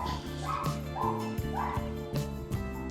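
Neighbor's dogs barking and yipping in a quick irregular series of sharp barks with whimpering tones, moderately near, no talk over them.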